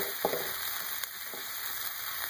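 Chopped green chillies fry in hot oil, giving a steady close sizzle with a few brief stirring clicks and sputters over a couple of seconds, no voices.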